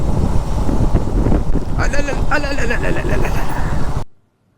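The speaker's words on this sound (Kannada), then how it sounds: "ತಂಪು ಗಾಳಿ." Wind buffets steadily and loudly while riding a Royal Enfield Interceptor 650 motorcycle, with voices talking briefly partway through, before the sound cuts off abruptly.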